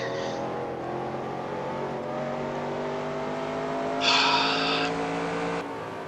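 A race car in NASCAR Racing 2003 slides wide through a broad drift, its engine humming steadily while a brief, bright tire squeal rises for about a second and a half, then cuts away.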